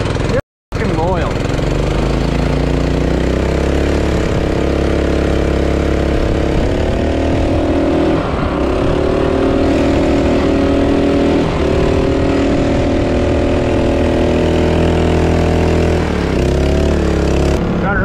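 A 1992 Kenworth truck engine starts after a brief silence and then idles loudly and steadily up close, with a deep, constant rumble and a few revs while people talk over it.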